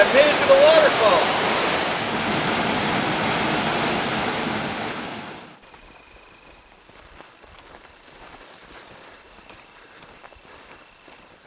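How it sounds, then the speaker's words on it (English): A waterfall in Coyote Gulch canyon roars as a loud, steady broadband rush for about five seconds, then cuts off abruptly and leaves near silence. "Alright, I've made it to the waterfall."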